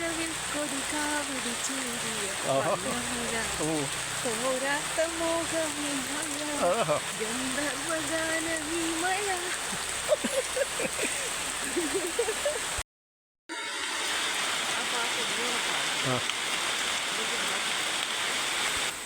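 Steady rain falls outdoors during a mangosteen harvest, a constant broadband hiss of drops that runs throughout, briefly cutting out near the end, with a voice talking and singing over it.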